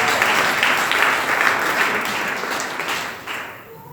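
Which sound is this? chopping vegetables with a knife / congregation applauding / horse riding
congregation applauding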